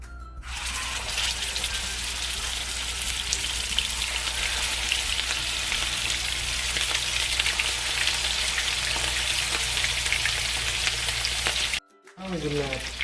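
Burger steak patties sizzle steadily in a hot pan, a loud continuous crackle that fills the whole stretch, with a brief drop near the end.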